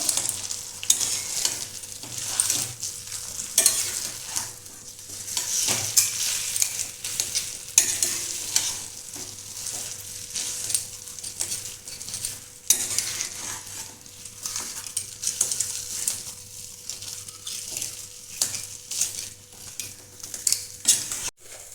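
Boiled potatoes being kneaded and squished by hand for a homemade fuchka (golgappa) filling, a steady run of soft, wet squelches and light scraping against a bowl, close and moderately quiet, with no voices.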